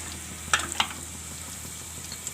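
Raw banana pieces frying in hot oil as cashews go in, a steady soft sizzle with two sharper crackles near the start, then continuous bubbling hiss.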